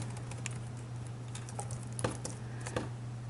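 Keys clacking on a computer keyboard while a title is entered into a reference form, a few soft scattered keystrokes over a steady electrical hum.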